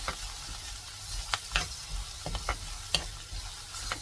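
Onions frying until golden brown in a pan for a vegetarian mushroom gravy, a steady close sizzle broken by scattered spatula scrapes and clinks as they are stirred.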